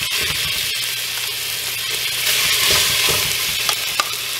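Beef short ribs sear in a couple of tablespoons of hot oil in a pan for Jamaican-style beef soup, a loud, steady, close sizzle with no voices.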